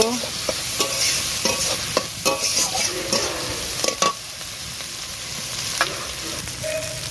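A spatula stirs frying food with salt and turmeric in a pan, giving irregular scraping clicks over a soft background sizzle.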